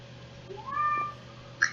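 A house cat gives a single clear meow, mid-pitched and close, rising then falling over about half a second, followed by a short faint chirp against a quiet indoor hum.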